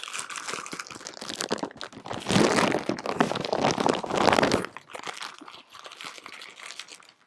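A large plastic bag is ripped and torn open close by, with loud crinkling, crunching and tearing bursts, strongest in the middle, then lighter rustling.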